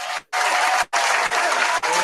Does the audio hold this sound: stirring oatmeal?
no